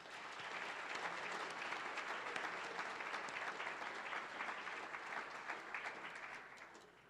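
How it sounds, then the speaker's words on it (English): Audience at a City Club forum in Portland breaking into sustained applause, a dense, even wash of many hands clapping that holds steady for several seconds before tapering slightly at the end. "Please join me in a warm round of applause for all of them."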